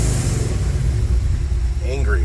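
A Ford F100 truck's DOHC engine idles and burbles through a test muffler. The exhaust makes a loud, steady, close-up low rumble with a slight rev near the end.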